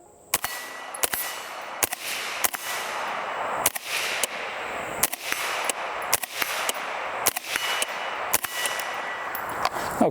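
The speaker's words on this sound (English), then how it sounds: "Let's just take a couple of shots really quick." A rifle fired through a HuxWrx 556k suppressor, roughly a dozen sharp, muffled reports at an irregular quick pace, each followed by a short decay over a steady background hiss, close by.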